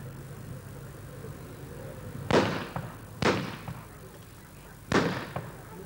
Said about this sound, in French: Attention au coup de feu là, ceux qui ont peur.